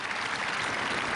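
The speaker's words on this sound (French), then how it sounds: "L'applaudissement de la salle" Audience in the hall at the Oslo Nobel Peace Prize ceremony for Liu Xiaobo applauding, a dense, steady wash of clapping that fills the whole moment without a break.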